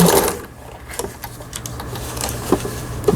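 A Brother household sewing machine running a three-step zigzag stitch, its motor whirring and needle tapping in a steady rhythm, close and fairly loud with a few sharper clicks.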